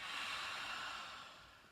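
A slow exhale through the mouth during a yoga pose sequence: a soft, close, breathy hiss that gradually fades.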